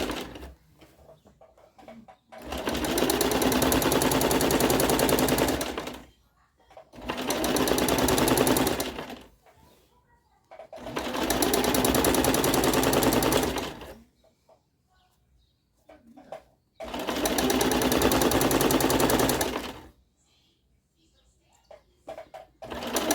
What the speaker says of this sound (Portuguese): E essa máquina, ela é leve, ela fica andando.